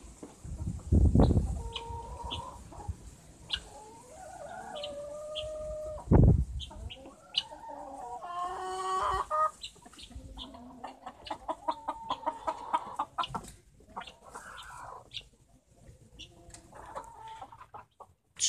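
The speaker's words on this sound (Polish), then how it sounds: "tam kury niosą, to nie chcę ich płoszyć" Farmyard hens cluck and murmur in a loose run of short calls with a few sharper squawks and one or two louder bursts, heard at moderate distance against a quiet background.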